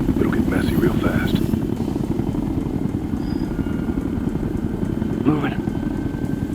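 Helicopter in the shooter Ghost Recon Future Soldier, a continuous rapid rotor chop and engine drone, loud and steady, with brief voices of people talking over it.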